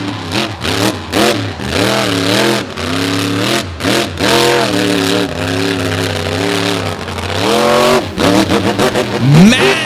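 Dirt Crew monster truck engine at a beach monster truck show, loud close revving that rises and falls in repeated surges throughout freestyle, with bursts of throttle and a hard climb near the end.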